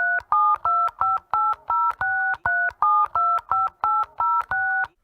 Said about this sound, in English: Here, Frank, use this calculator on my phone.